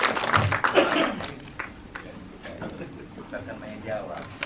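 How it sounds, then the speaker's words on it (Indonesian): Applause from the audience at a Pertamina Eco RunFest 2024 press conference, loudest in the first second or so and then thinning to scattered claps. Talk and murmuring from the room continue underneath. "Boleh minta tepuk tangannya teman-teman?"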